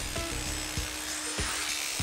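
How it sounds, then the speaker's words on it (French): A jackhammer chips old, mouldy render off a house facade in quick bursts, with sharp repeated strikes standing out over steady background noise and no talk. "ils attaquent la façade au marteau-piqueur pour retirer le vieux crépi qui moisissait depuis des années"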